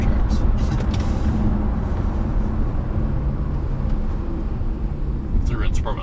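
A 2014 Honda Accord V6 with a K-tuned setup accelerates hard from a stop, heard from inside the car as a loud, sustained, broad engine and road roar that stays steady throughout.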